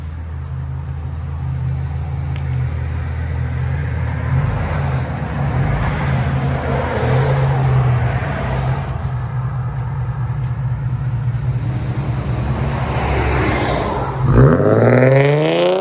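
An Infiniti G37 with a 3.7L V6 and a Vibrant exhaust gives a steady, deep drone, as if cruising, that holds for most of the stretch, then swells into a sharp rev near the end. No voices are heard.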